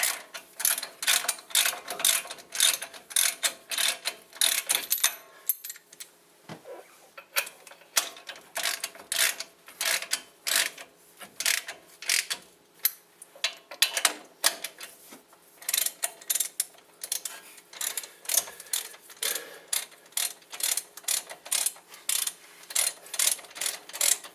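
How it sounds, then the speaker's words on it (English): A 21mm socket on a ratchet tightening the wheel bearing bolts on a 2006 Dodge Dakota, rapid bursts of crisp pawl clicks with short pauses between strokes, close and alone. "Now again with our 21mm socket, tighten them both down."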